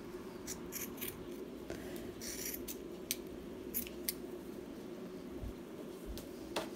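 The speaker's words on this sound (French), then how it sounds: "ce que je suis en train de faire, c'est de couper tous mes fils comme ça pour les avoir qui pendouillent" Scissors snip repeatedly through loose weaving threads in a series of sharp, close cuts, with a steady low hum underneath.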